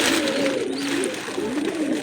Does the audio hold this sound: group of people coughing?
no